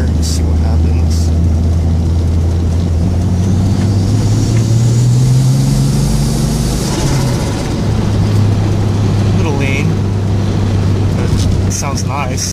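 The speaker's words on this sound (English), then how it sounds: "Do a small second gear here and see what happens." A 1970 Datsun 240Z with a turbocharged L28ET engine pulls hard in second gear, its loud, close drone climbing steadily in pitch for several seconds before easing off near the end.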